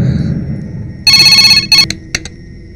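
Telephone ringing in a Telugu film scene, loud bright electronic trill in one long ring then shorter bursts, over low background sound.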